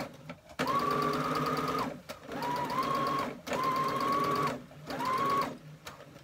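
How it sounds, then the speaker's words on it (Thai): A motorized sewing machine runs in four whirring bursts of rapid stitching on fabric, each a second or so long with short quiet gaps between, close and clear. "เราเลยอยากให้เร็วเราก็กดนานๆเห็นไหมคะ พอเย็บเสร็จเราก็ยกขึ้นธรรมดา"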